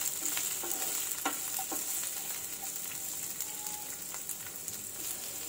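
Capsicum squares and onion cook in a hot pan for Manchurian, giving a steady, moderate sizzle with occasional light stirring clicks, no voices.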